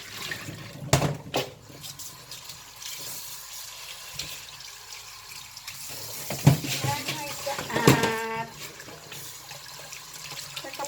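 Fish is rinsed in running water at a sink, with a steady close splash and trickle, a few sharper knocks and sloshes, and people talking over it.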